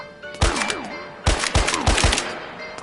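Video game gunfire crackles in several loud, sharp bursts, a quick cluster of shots followed by a rapid rattling string of rounds, close and dominant with no talking.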